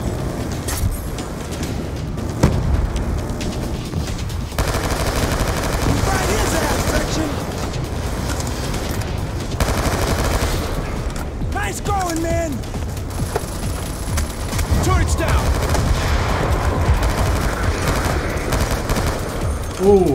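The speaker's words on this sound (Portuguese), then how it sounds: "The fucking turret's got the area locked down!" Sustained turret machine gun fire in the Call of Duty: Black Ops 2 campaign, a dense rattling barrage with other weapons and explosions, mixed with shouting voices throughout.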